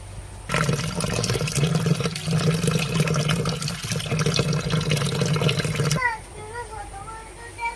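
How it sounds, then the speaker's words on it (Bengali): Soaked rajma kidney beans being rinsed in water, a loud, steady rush of splashing and swishing that runs for several seconds before stopping abruptly, heard close up. "এই যে দেখছেন রাজমা এটা এখন ভালো করে ধুয়ে নেবো"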